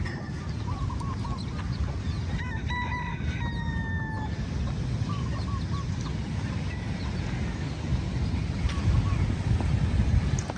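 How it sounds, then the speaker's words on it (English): Chickens cluck and chirp on Poipu Beach in Kauai at sunrise, faint calls scattered over steady surf and wind noise. "if you see that chicken there and those little chicks"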